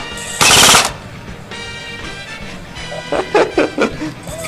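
Airsoft guns firing at a large outdoor lakeside game, with a loud, close burst of rapid full-auto shots followed by quieter, more distant volleys of fire.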